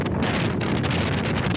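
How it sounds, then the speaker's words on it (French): Strong wind gusting and roaring through a house during a storm, a steady loud broadband rush with low rumbling buffets and no voices. "Pourquoi il y a du vent dans ta maison là?"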